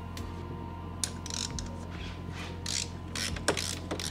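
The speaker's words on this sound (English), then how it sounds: "Locate the 2 motor mount bolts on each side of the bike, and with your 3/8 ratcheting wrench," A 3/8 ratcheting wrench loosens motor mount bolts on a bike, giving faint, sparse ratchet clicks and metallic creaks over a low, steady hum in a quiet workshop.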